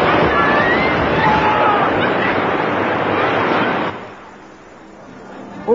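Rushing wild water at the Alton Towers Grand Canyon Rapids raft ride: a loud, broad roar of churning water and spray that drops off sharply to a quieter wash partway through.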